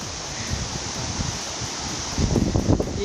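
Wind blows steadily and roars across an outdoor microphone at a waterfall, with gusts growing stronger toward the end.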